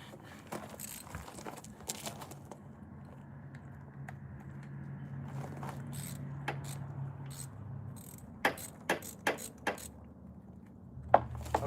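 A motorcycle spark plug is worked out with a ratchet wrench in a home workshop, giving faint scattered clicks and metallic rattles that build into a few sharper, louder ticks near the end, with no talking.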